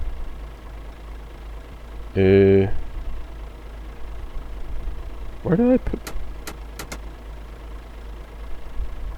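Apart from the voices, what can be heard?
truck engine idling in Euro Truck Simulator 2 video game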